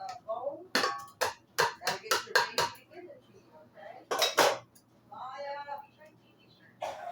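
Cornbread batter of cornmeal, flour and bacon grease is mixed in a bowl, giving a series of sharp clinks and taps of utensil against the bowl, with a voice talking between the strokes.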